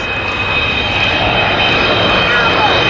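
Avro Vulcan XH558 bomber passing overhead with its undercarriage down at an RAF Waddington air display, a loud, sustained jet roar filling the whole moment.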